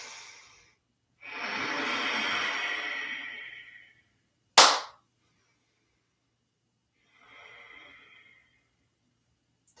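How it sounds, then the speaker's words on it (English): Forceful breaths during a Yi Jin Jing qigong exercise: a long rushing exhale, a sharp snort-like burst, then a quieter short breath, close and clear with no talking. "So breathe in, push, strong fire."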